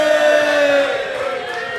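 A live podcast audience in London cheers loudly in a brief, close burst of whoops and shouting that fades slightly toward the end.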